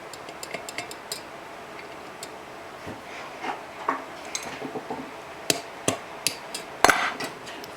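Metal carburetor parts of a 1948 Massey Harris Pony tractor clicking and clinking as the float is refitted, a scattered series of sharp light taps and ticks close by, with a louder cluster of clinks near the end.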